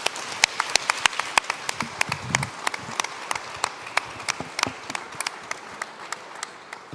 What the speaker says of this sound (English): join me in a big round of applause for them